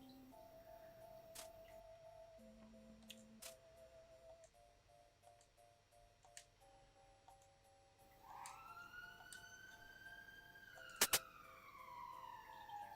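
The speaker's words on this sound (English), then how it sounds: "Sorry, that's the sirens." A siren wails in the distance outside an open window, its pitch sweeping upward near the end, over faint background hum and a few sharp ticks.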